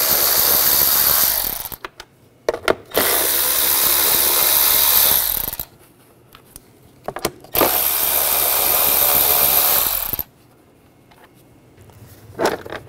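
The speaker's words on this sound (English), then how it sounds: "We're going to remove this cover, use a 10 millimeter socket. There's four nuts on top." A tool with a 10 millimeter socket removes the nuts from an engine cover on a 2006-2010 BMW 550i. It gives three loud, rapid mechanical whirring runs of a few seconds each, separated by quiet pauses, with a short burst at the end.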